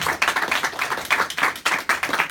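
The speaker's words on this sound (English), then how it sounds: "Can we all give a round of applause and perhaps an ovation for David?" At a Toastmasters meeting, an audience applauds with a steady patter of hand claps from a modest group of people, fairly close and continuous.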